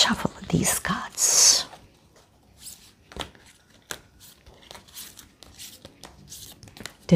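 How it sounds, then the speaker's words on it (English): Tarot cards riffle-shuffled by hand in a brief, dense papery burst, followed by scattered soft card clicks and handling sounds. A voice talks just before the shuffle. "One more shuffle with these cards."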